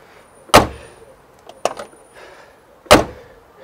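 The door of a 1971 Polish Fiat 125p shuts with two loud, sharp thuds a few seconds apart, and fainter clicks and rattles fall between them, with no talk.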